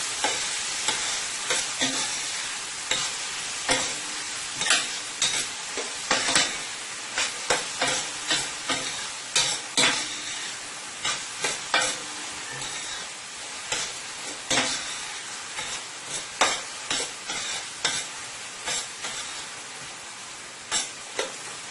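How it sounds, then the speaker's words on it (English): Ingredients for Guyanese egg and rice sauté in a pan, a steady near sizzle overlaid with frequent rhythmic scraping and tapping of a utensil stirring against the pan. "I'm going to let it saute for about a minute or 2"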